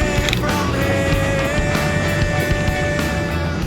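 A cheap car with a 2JZ engine, bought off Marketplace and puffing smoke, drives around the block. Its engine drones loud and steady with road and mechanical noise, close to the microphone.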